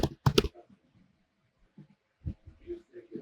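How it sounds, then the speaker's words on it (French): A couple of quick, sharp keystrokes on a computer keyboard while designing a social media poster in Photoshop, followed by sparse soft clicks and quiet talk in the background. "Il tape."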